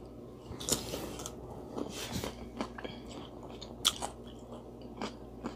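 Crisp bites and wet chewing on cucumber pieces coated in Diablo hot sauce, several sharp crunches spaced irregularly over soft mastication, close to the mic with no talking.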